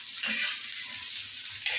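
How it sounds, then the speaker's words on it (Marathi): Onion fries in a pan with a steady close sizzle, punctuated by a couple of brief stirring scrapes, no voices present. "चांगलं शेकला का कांदा"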